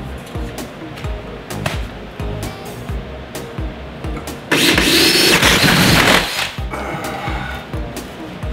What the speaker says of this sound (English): I'm going to drill another one right here